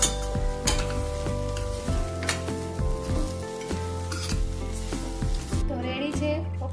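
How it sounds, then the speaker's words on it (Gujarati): Grated papaya sambharo with lemon juice is tossed in a pan, with steady sizzling and scraping stir strokes heard close over a musical backing. "ઉપરથી 1 લીંબુનો રસ નાખી અને બધું સારી રીતે મિક્સ કરી લઈશું"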